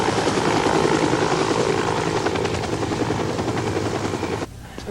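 A rescue helicopter on a New Zealand island: its steady rotor chop and engine roar fill the clip loudly, then cut off abruptly near the end.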